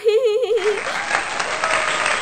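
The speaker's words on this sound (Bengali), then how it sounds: "এই সবাই হাততালি দাও" An audience at a school phuchka-eating competition breaks into close, dense clapping that runs to the end, preceded by a brief high-pitched voice.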